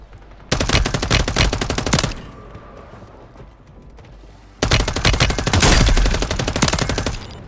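Two loud bursts of rapid automatic gunfire from a weapon in the video game Call of Duty: Warzone, each lasting about one and a half to three seconds, separated by a quieter lull.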